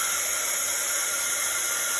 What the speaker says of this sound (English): So I'm just going to heat the gun up